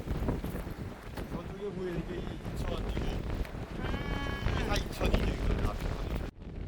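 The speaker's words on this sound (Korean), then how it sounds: "왜 이렇게 바람이 세지 여기?" Strong wind buffets the microphone on an island beach at low tide, a continuous rough roar under the voices of people talking nearby, gusting louder toward the end.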